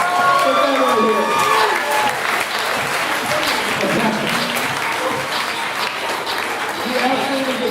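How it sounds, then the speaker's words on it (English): Conference audience applause at a Geekend 2018 talk, a loud, sustained roar of clapping with some cheering and voices mixed in throughout. "Let's give it a round of applause for Ben right here"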